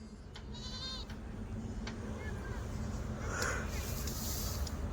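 Kathiawari goats bleat now and then amid a busy, steady background of crowd chatter and outdoor noise, with a louder, closer bleat near the end.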